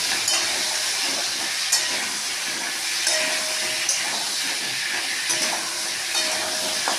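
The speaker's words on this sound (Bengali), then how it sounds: "এবার কড়ার মধ্যে আলুগুলোকে দিয়ে দেবো, দিয়ে ভালো করে ভেজে নেব।" Potatoes frying in a wok give off a loud, continuous hiss and crackle of hot oil, steady and close throughout, with faint scrapes and small knocks now and then and no talking.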